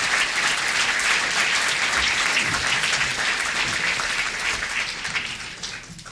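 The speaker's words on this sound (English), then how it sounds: "Give them a round of applause." Sustained applause from a city council meeting audience for the Valley High School Marching Machine band, a dense steady clapping that tapers off near the end.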